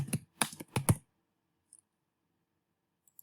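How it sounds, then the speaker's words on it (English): Someone types on a computer keyboard in short bursts of crisp, close clicks that lasts about a second, followed by near silence broken by a couple of faint isolated taps. "type your name"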